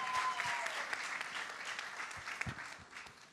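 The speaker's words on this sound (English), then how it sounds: "round of applause?" Faint audience applause for panelists at a discussion on Progressive India, a soft wash of many hands with a few sharper claps, fading gradually over a few seconds.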